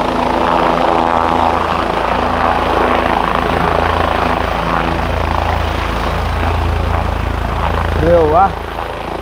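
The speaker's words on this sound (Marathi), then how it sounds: "ये छोटा हेलिकॉप्टर" A small helicopter flies nearby with a steady, loud rotor and engine drone that holds throughout, while people talk over it.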